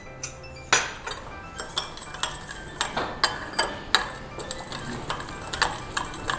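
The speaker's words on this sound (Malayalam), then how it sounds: "ഇത് നമുക്ക് മിക്സ് ചെയ്ത് മാറ്റി വയ്ക്കാം." A spoon clinks rhythmically against a bowl while spicy ginger chicken sauce is mixed, with crushed chili and pepper, soy sauce and vinegar in it: steady close taps and scrapes with no talking.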